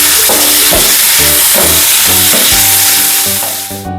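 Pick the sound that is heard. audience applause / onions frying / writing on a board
onions frying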